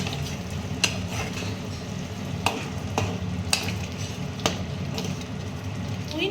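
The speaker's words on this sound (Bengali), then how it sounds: "এবার দেবো খুব সামান্য পরিমাণ জল" Prawns sizzling and frying in a pan after a little water is added, a steady bubbling hiss with occasional sharp clicks of a utensil, moderately close and without talk.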